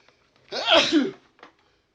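A single sharp human sneeze, close and loud, followed by a brief faint breath.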